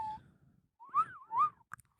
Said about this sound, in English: That was a terrible whistle.